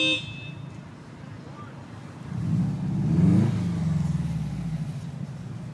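A Subaru accelerates on the way to a pier in Canandaigua, New York, its engine rising into a low rumbling hum that builds and holds steady, heard from inside the car.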